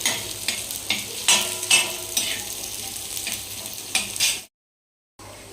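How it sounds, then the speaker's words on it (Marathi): Onion sizzles and fries in a hot pan while a spatula stirs it in repeated scraping strokes, close and clear, for a black pea usal; the sound cuts briefly to silence near the end. "ब्राऊन कलर होईपर्यंत कांदा चांगला परतवून चांगला भाजून घ्यायचा"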